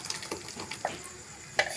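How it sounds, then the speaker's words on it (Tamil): Ground tomato added to frying masala for a dhaba-style potato gravy sizzles in a hot pan with soft stirring scrapes and a light clink, close and fairly quiet. "இப்போ நம்ம தக்காளி சேர்த்துக்கலாம்."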